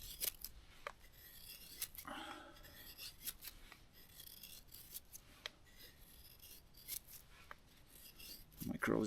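A knife shaves fine feather-stick curls from a piece of wood outdoors, giving soft, close scraping strokes at an uneven pace, faint, with no talking.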